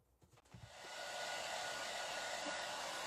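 A hair dryer blows steadily to dry fresh paint on a thrifted wooden tote, starting after a few light handling knocks and then holding a loud, continuous whoosh to the end.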